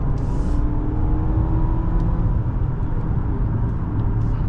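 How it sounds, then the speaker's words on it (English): A 2024 Audi A6 45 TFSI accelerating to pass, heard from inside as a steady engine rumble and road roar that holds loud and even for a few seconds. "Well, let's check the passing power of this car."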